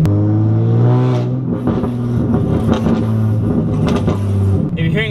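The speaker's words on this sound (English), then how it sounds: "If you're hearing all those poppings," Teal Nissan 350Z engine revving hard and steadily near the microphone, with rough crackle and exhaust popping toward the end.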